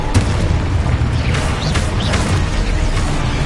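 Confringo fire spells blasting in a Hogwarts video game, a loud, continuous barrage of heavy booms and bursts that roll into one another with no pauses.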